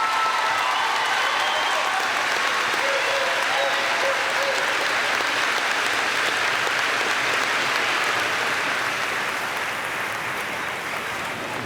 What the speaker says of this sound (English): Please honor all the master's degree awardees with your applause.